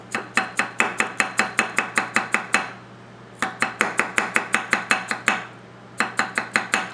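A Tojiro ITK 240mm kiritsuke gyuto push-cuts on a cutting board in quick, even, crisp taps: a run of about a dozen strokes, a short pause, another steady run, then a few more, all close and clear.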